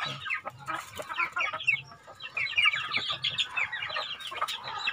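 A flock of native chickens on a rural province farm clucks continuously, with overlapping close cackles and chatter forming a busy, steady chorus and no talking.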